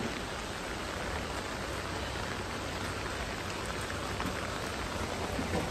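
Heavy rain pours steadily onto a flooded, waterlogged street, a dense, even hiss with no voices and no breaks.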